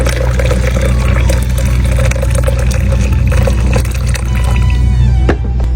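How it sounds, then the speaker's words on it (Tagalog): Hot water poured for barako coffee, a loud continuous liquid pour with steady splashing and rushing, close up, no talk, ending in a brief clatter. "Lagyan natin mainit guys na tubig."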